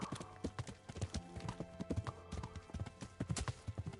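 Steady clip-clop of horse hooves trotting in a brisk, even rhythm in the video game Kingdom Come: Deliverance, fairly close, with a soft continuous background and no talking.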